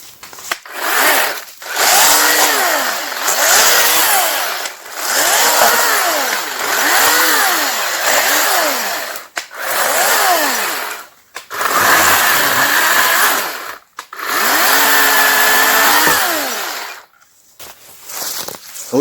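A battery chainsaw cuts firewood in loud, close bursts, the motor whining up and bogging down through each cut, with short pauses between several passes and no talking.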